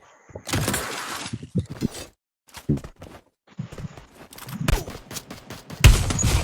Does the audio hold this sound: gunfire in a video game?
yes